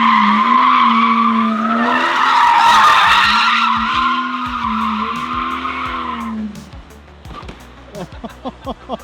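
A BMW E90 slides through a drift, its tires squealing loudly in long wavering tones over the engine for several seconds before the squeal fades and ends in a few short clicks and knocks.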